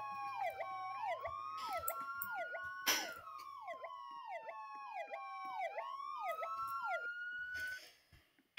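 An EMS ambulance siren in a construction roleplay game wails in a steady fast yelp pattern, loud and close, with a brief horn blast partway through before it cuts off abruptly at the end.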